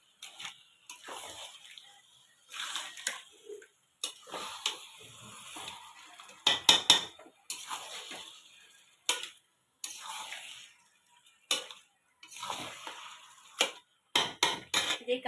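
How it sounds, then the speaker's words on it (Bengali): Crab is tossed with masala in a pan for a Digha street-style crab kosha, in separate bursts of scraping and clattering spatula strokes with quiet pauses between them. "এবার এইভাবে ক্যাকড়া মশলার সাথে মিশিয়ে যাব,"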